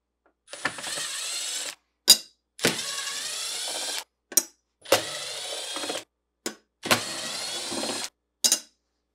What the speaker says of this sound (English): Start by removing the screws holding the end caps in place using a 1/4-inch nut driver.